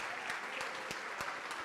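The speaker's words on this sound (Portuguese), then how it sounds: "vamos aplaudir ao Senhor Jesus por cada vida que está chegando" Congregation in a church applauding, a faint, continuous patter of hands with a few sharper claps standing out at a regular beat.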